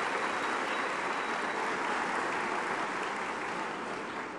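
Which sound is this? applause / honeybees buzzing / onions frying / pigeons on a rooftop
applause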